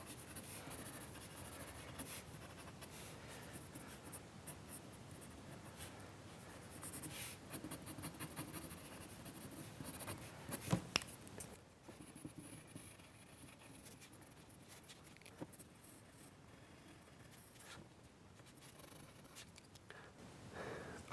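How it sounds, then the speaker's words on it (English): A soft 5B or 4B graphite pencil scratches diagonal shading marks across paper, giving a continuous close, quiet rasp with rhythmic strokes over about twenty seconds. "5B, 4B pencil, the softest one that you've got, and again, just diagonal marks"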